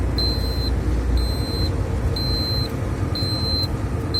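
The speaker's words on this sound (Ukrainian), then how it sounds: "що тут в мене там постійно пищить, ну то такий датчик там спрацьовує, що в ресивері недостатньо" A vehicle's low air-receiver pressure sensor beeps steadily inside a moving vehicle on a slippery road, giving four evenly spaced, clear electronic tones over a loud, constant engine and road rumble.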